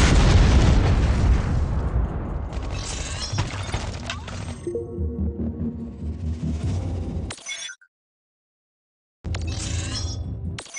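Units fire and explosions burst in the Iron Marines real-time strategy game, with dense booms, crackles and shattering impacts stacked loudly, a brief silent gap, then another burst of blasts.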